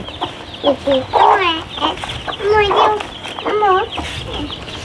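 Hens clucking and calling repeatedly at close range while small chicks are given chicken feed, several loud bursts of squawking clucks with brief gaps between them.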